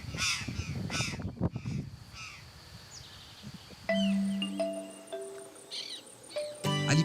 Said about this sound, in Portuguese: encontramos um grupo de gralhas do campo.